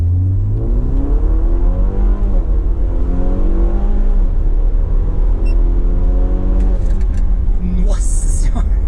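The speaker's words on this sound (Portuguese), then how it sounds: "Pé fundo no acelerador, vai armar o loud contra." A BMW 320 GT accelerates hard from a standstill to 100 km/h, its engine rumbling loudly and rising through several gear changes, with the pitch dropping at each shift and a brief voice near the end.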